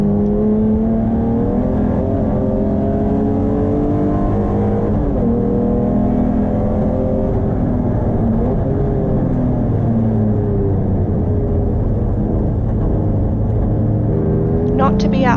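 A BMW rally car powers through a wet final complex of corners at Taupo, its engine revving and falling in continuous sweeping pitches with slight wheel spin on corner exit, loud and close throughout.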